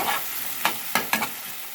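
Vegetables sizzle in a hot pan with salt while a spoon stirs them, making three or four quick scraping strokes over a constant close frying hiss.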